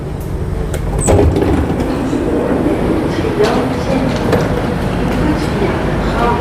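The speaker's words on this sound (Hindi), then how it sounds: "ये हमारी ट्रेन है जिससे हम उतरे हैं" A train rumbles steadily at Utrecht Central station, loud and close, with clanks, a door-like thump and platform noise; people talk nearby.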